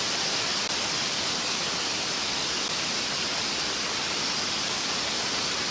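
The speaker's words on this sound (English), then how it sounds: "I have to yell now because it just started pouring" Heavy rain pours down in a steady, dense, unbroken hiss that fills the whole stretch evenly, with no voices over it.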